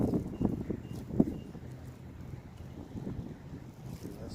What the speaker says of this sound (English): There's a breeze blowing.